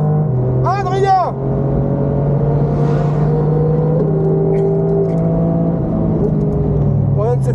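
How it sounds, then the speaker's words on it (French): Race car on track at the Castellet circuit, engine droning steadily with gear-shift changes in pitch as a Ferrari overtakes, heard from inside under brief voices. "On vient de se faire bouffer par une Ferrari."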